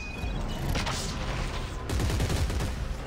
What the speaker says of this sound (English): Oh, rocket launcher.